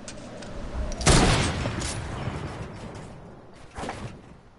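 A player's gun fires in a video game, one loud blast that rings out and slowly fades, then a second, shorter burst near the end, with no talking.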